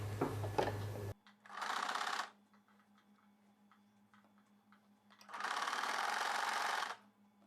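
A sewing machine runs in two loud bursts, stitching the final seam of a boat-neck, front-open cross-cut blouse with lining, with quiet ticking pauses between them.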